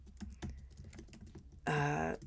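Someone types on a computer keyboard, with irregular close key clicks and taps, then a brief louder burst of rattling keystrokes near the end, with no talk.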